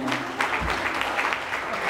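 Brief burst of audience applause at a Department of Health talk in the Philippines, moderately loud clapping filling under two seconds.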